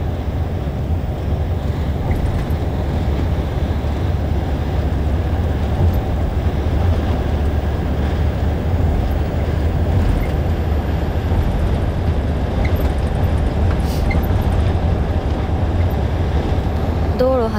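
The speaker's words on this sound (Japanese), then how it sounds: "私自分の声が聞こえんくなるくらいさ、車の音でかいんやけど" Steady road and engine rumble inside a moving car, a loud continuous broadband roar with wind-like hiss that holds evenly throughout, with someone talking over it.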